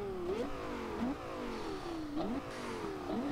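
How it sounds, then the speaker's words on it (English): An upgraded 2010 Lexus LFA in Forza Horizon 2 revs hard through repeated climbing pulls, each rising rasp cut by a quick drop and flick back up, loud and close with no other sound. "You can really hear that turbocharger spooling up front."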